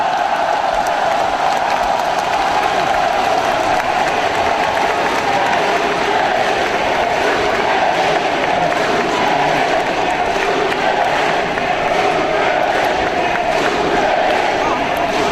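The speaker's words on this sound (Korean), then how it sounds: "뜨거운 박수로 맞아주십시오." A large crowd at a Korean Democratic United Party primary rally in Gwangju applauds and cheers continuously and loudly, a dense sustained roar of clapping and voices.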